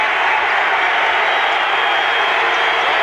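A dense, steady roar from a basketball crowd at the 1988 McDonald's All American Game, loud cheering and clapping that fills the whole stretch without a break.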